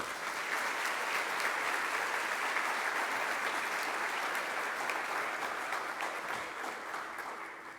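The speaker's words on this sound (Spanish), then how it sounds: "quiero pedir un aplauso muy especial" Sustained applause from a large audience at a national tourism forum, dense and steady clapping filling the whole stretch before gradually easing near the end, with no one speaking over it.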